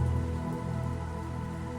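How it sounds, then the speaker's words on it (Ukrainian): Gentle, steady rain patters in a calm meditation soundscape, an even soft wash of drops with no voices, continuous throughout. "звідти починає спускатися неймовірно красивий дощ"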